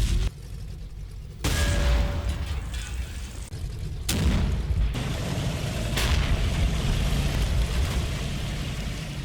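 Tank guns from Shermans and a Jagdpanzer platoon firing in a Combat Mission Final Blitzkrieg battle at Chaumont, several loud booming blasts spaced a few seconds apart over a continuous rumbling battle background.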